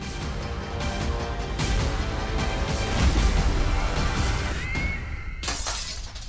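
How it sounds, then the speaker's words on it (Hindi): Window glass shatters after being struck by a cricket ball, a loud crash with scattering shards over a steady background of music and noise. "लगता है विवान ने क्रिकेट की गेंद से फिर से खिड़की के शीशे तोड़ना शुरू कर दिया"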